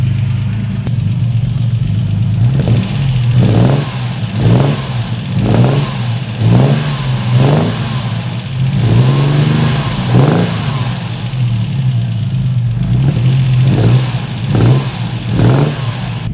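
A 37-year-old Ford Capri engine revs repeatedly in short bursts, each rise in pitch followed by crackling pops from the exhaust, close and loud.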